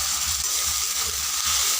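Ground spice paste with a splash of water fries in a hot pan for an egg curry, giving a loud, dense, continuous sizzle that runs steadily without pause.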